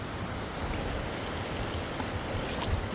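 Steady, close rush of water pouring down a natural waterfall outdoors, a dense continuous roar with no pauses and no voices.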